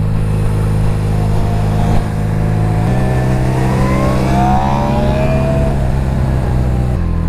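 An R1 superbike brought over from America idles loudly and close, its engine note climbing in a rising rev sweep before settling back to a steady rumble, with no talk.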